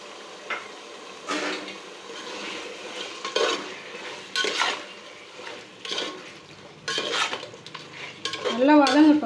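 Chicken biryani masala with yogurt is sautéed and stirred in a pot, giving intermittent scraping spoon strokes against the metal over a soft, steady sizzle, close and moderately loud.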